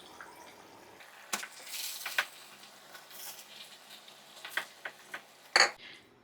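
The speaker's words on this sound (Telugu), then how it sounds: "ఇలా మనం వేసుకున్న పన్నీర్ అంతా మసాలాలో కలిసిపోయేటట్టు బాగా కలుపుకోవాలి" Grated paneer being stirred into masala in a pan with a utensil, quiet scraping and soft clinks of metal against the pan, a few sharper taps near the end, no talk.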